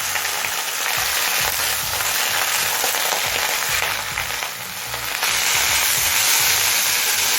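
Bottle gourd greens hit hot oil with green chillies, giving a loud, steady sizzle and crackle that swells slightly partway through, with no speech.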